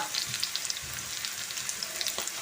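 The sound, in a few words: shallots and curry leaves frying in hot coconut oil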